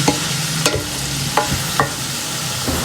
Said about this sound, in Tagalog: Gisa-gisa lang muna natin para kalasa siya